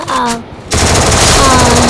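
A short burst of rapid video game gunfire erupts after a brief lull, loud and sustained, with a voice heard underneath at the start.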